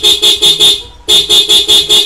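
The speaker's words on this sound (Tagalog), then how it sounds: "tignan nyo yung busina ko. Busina." A customized motorcycle's horn sounds in a run of short, loud, even honks, four quick blasts, a brief gap, then four more, close and alone.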